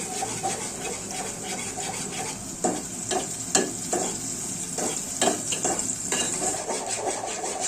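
Onions and garlic fry in oil with a steady, bright sizzle, while a utensil scrapes and stirs them in a series of close strokes.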